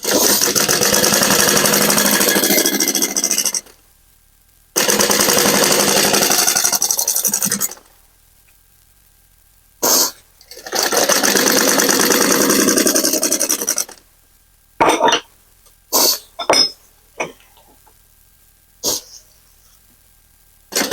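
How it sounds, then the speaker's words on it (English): A sewing machine stitches down the side of a zipper pouch, a close, steady whirring run of a few seconds, repeated in several stretches, then a few short bursts near the end. "I'm going to line up my sides, and I'm going to sew right down the side of it."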